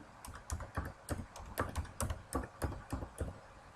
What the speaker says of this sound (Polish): wpisujemy swój login